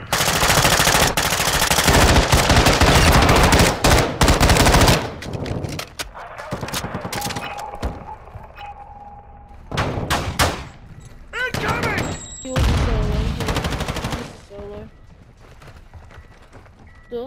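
Rapid bursts of automatic gunfire in Call of Duty MW2 DMZ, loud and close at first, then intermittent volleys and single shots mixed with voices talking over the fighting.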